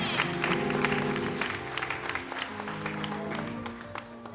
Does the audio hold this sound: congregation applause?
yes